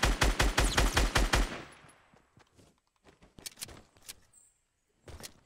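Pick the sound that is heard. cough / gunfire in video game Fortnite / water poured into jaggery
gunfire in video game Fortnite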